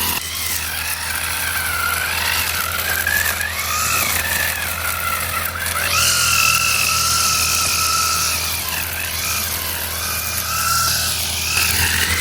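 A grass cutter drones steadily and continuously at a fishpond, its whining motor rising and falling slightly in pitch over a constant rumble, fairly loud throughout with no talk.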